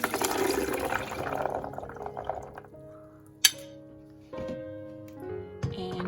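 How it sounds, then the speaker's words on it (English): Water pours and splashes steadily as soaked chickpeas are drained, then thins to scattered drips and small trickles with a couple of sharp clinks of a container. "So what we're going to do is we're going to drain them"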